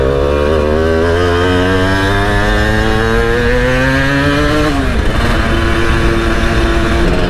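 A Simson moped engine idles at low revs, a steady close buzzing drone that sags slightly in pitch partway through, then settles into an uneven putter.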